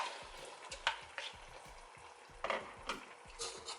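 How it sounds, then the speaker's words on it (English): Potatoes go into a pot of simmering Jamaican stew pork, giving a soft sizzle with scattered stirring and clinking knocks, quiet and close with a few sharper bursts and no talking. "So I'm gonna add in my potatoes,"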